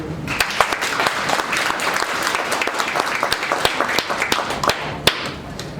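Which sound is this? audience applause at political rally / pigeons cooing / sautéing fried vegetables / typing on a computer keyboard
audience applause at political rally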